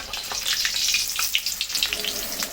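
Leaf fritters frying in hot oil in a wok on a lowered gas flame, giving a close, continuous crackling sizzle with rapid bright pops throughout.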